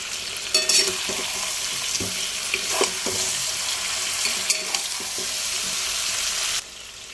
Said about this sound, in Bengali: এবার আমি দিচ্ছি আদা বাটাটা দিয়ে ভালো করে আরেকবার কষিয়ে নেব